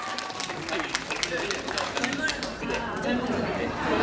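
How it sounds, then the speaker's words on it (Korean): An outdoor crowd at a night food-street festival in Seochon, Seoul, breaks into clapping mixed with crowd chatter and voices, a steady, moderately loud round of applause. "박수 한번 주세요"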